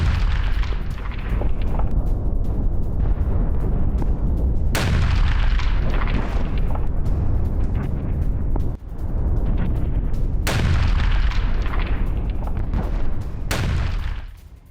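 Israeli jet air strike explosions hitting Hezbollah positions in southern Lebanon, loud deep booms and rumbling blasts with a few sharp detonations standing out, continuous and heavy throughout.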